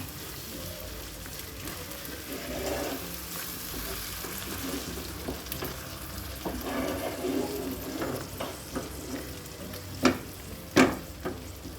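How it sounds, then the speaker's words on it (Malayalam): Okra masala mixed with a small cup of yogurt is stirred in a pan, a soft steady sizzle with scraping spoon strokes and a couple of sharper clinks near the end. "ഒരു ചെറിയൊരു കപ്പ് തൈരിട്ട് കൊടുത്തേ. ഇതെല്ലാം കൂടെ നല്ലപോലെ മിക്സ് ചെയ്യാം."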